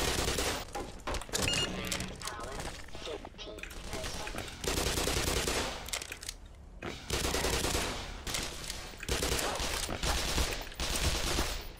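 Dense, loud bursts of automatic gunfire and rapid shots from the first-person shooter Black Mesa fill the scene almost continuously, with brief lulls between volleys and faint voices mixed underneath.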